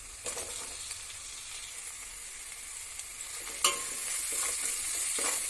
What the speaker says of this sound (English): So we just need to fry it a bit, and we need to retain the crispiness of the capsicum